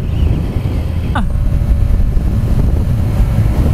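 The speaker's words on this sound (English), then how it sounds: "fucking windy, mate" Loud low rumbling wind buffeting the microphone throughout, with a brief faint whine passing through early on.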